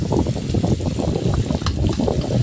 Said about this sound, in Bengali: কুচানো পেঁয়াজ আর রসুন দিয়ে দিচ্ছি তেলে। একটু লাল করে ভালো করে ভেজে নিব।